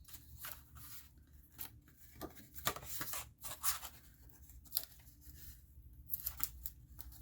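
Scissors snip through card while making a Santa easel card, a series of short, close, quiet cuts and rustles spaced irregularly, with faint handling noises between them.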